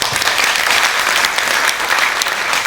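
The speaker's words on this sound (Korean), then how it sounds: "여러분들 박수 한번 쳐주시죠" Dense applause from an audience at a memorial ceremony, a steady wash of many hands clapping close and loud, with no break for the whole stretch.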